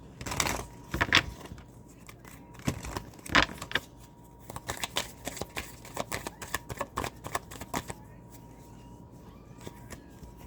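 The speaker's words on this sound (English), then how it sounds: "Let's get a few tarot cards." Tarot cards are shuffled and handled close by in a quiet room, making a run of soft, uneven riffling clicks and rustles that thin out toward the end.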